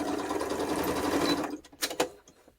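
A sewing machine stitches fabric tags with a steady, continuous whir for about a second and a half, then stops and leaves a few clicks and handling knocks.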